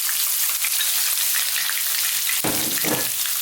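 Onions frying in hot oil for a lentil dal, a loud steady hiss and crackle of sizzling with a brief burst of louder spattering as more goes into the pan.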